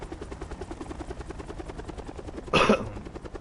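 A helicopter in the video game Call of Duty Blackout drones steadily with rhythmic rotor pulsing, then a brief loud burst of noise cuts in near the end.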